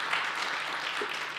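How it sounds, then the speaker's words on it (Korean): Soft, brief applause from a congregation in a London Korean church after a baptism, a faint wash of clapping lasting only a moment. "박수로 한번 축복해 주시기 바랍니다."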